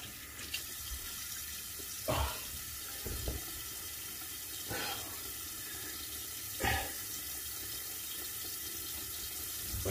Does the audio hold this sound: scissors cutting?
no